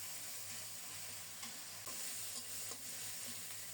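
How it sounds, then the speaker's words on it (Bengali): Spices, onion and garlic frying in a pan give a steady, close sizzle, with a few brief scraping stirs mixed into the hiss and no voices. "প্রথমে এই মশলাগুলো একটু কষিয়ে নেব, তাহলে পেঁয়াজ রসুনটা ভালোভাবে কষানো হলে সুন্দর একটা ঘ্রাণ হবে"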